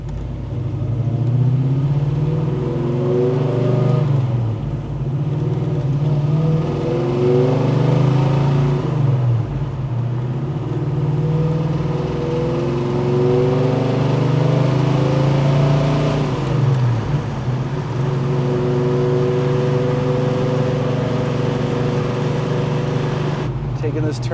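A 1970 Chevelle SS 454 V8 with a five-speed manual cruises steadily through a turn at about 50 mph, its engine droning loud and close with shifting pitch throughout, while someone talks over it.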